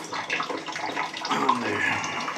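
Water drains from a steam boiler pipe, a steady close wash of running water with a rising gurgle, while a voice talks over it.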